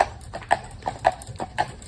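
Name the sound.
Clydesdale mare's hooves clip-clopping while walking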